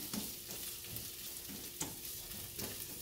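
Garlic sautéing in a hot teflon pan, a steady low sizzle with occasional stirring scrapes and soft clicks of a utensil across the pan surface.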